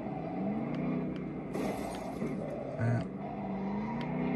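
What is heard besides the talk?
car driving around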